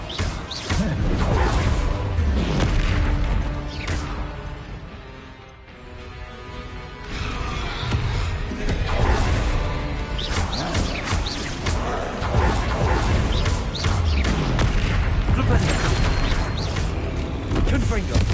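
Repeated Confringo blasting spell explosions from the video game Hogwarts Legacy, booming bursts and crashes layered over dense game music and effects, with a spoken voice calling out spell names throughout.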